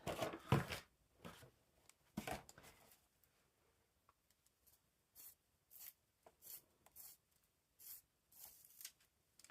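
Blunt colored pencils are sharpened in a series of faint, short scraping bursts, with a few louder grinding strokes at the start and then a rhythmic patter of quiet rasping turns.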